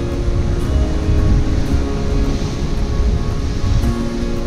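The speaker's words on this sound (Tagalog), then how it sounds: "Tapos itong dagat ito mga idol, Pacific Ocean na yan. Kaya malalaki yung alon." Big Pacific Ocean surf on a beach at Davao Oriental, a loud continuous rumbling roar of breaking waves with wind noise, no talking.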